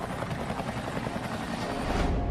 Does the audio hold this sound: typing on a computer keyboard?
no